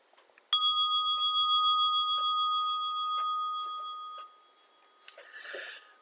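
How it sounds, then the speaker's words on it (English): A single meditation bell strikes once, clear and resonant, its pure tone ringing and slowly fading over several seconds in a quiet room, followed by faint rustling. "we're going to begin at the sound of the bell"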